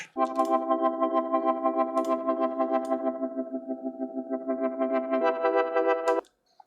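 A buzzy Serum synth tone in FL Studio pulses in a steady bouncing rhythm as its filter cutoff sweeps, sustained for several seconds before cutting off abruptly.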